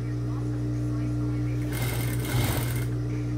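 Sewing machine topstitching a turned facing on a blouse neckline, a steady mechanical whir running throughout with a faster, louder burst of stitching partway through.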